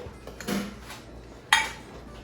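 Pasta with roasted plum tomatoes is tossed in a bowl, giving a soft wet shuffling stir and then one sharper utensil clink against the dish, quiet and close.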